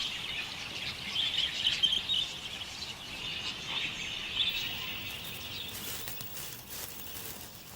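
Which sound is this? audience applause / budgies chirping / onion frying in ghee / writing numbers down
budgies chirping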